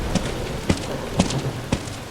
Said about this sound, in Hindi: आज कितनी अच्छी बारिश हो रही है हमारे गांव में।